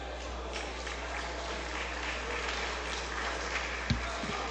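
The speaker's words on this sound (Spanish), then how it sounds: "Un fuerte aplauso" Applause in the chamber during a session of Peru's Congress, a steady wash of clapping at moderate level over a low constant hum, with a couple of brief thumps near the end.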